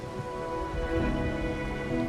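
Steady rain falling at night in the video game Wuthering Waves, a continuous soft hiss of drops with a low rumbling bed and faint tonal ambience, unbroken and fairly close.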